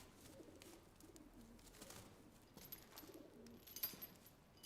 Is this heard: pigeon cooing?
yes